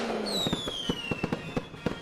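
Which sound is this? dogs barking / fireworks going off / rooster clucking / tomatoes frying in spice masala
fireworks going off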